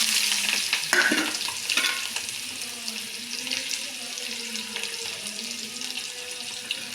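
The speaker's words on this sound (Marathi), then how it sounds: "छान असं परतून घ्यायचं आहे गोल्डन होईपर्यंत" Onion frying with cumin seeds in oil for a bitter gourd dish, a steady close sizzle with wet stirring scrapes, loudest at first and then settling.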